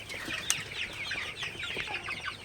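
Sonali super hybrid chickens, 49 days old, on a small farm at night keep up a steady stream of overlapping chirps and soft clucks, fairly close and continuous, with a brief sharper call near the start.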